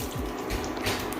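A tasting spoon is rinsed under a running tap at a meat stall kitchen, a continuous close splashing rush of water filling the whole moment.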